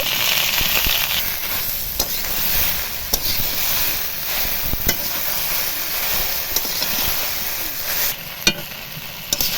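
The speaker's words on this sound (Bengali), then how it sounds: "এবার ভেন্ডিটা দিয়ে দেব দিয়ে একসাথে ভালো করে কষিয়ে নেব" Okra (bhindi) fries in a pan with green chillies, a loud continuous sizzle broken by sharp clicks and scrapes as it is stirred, close and steady with no speech.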